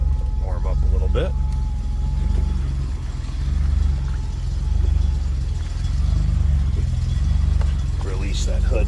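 A 1976 Datsun 280Z coupe's inline six idles with a low, steady rumble that gently rises and falls, heard close from behind the car with no voices over it.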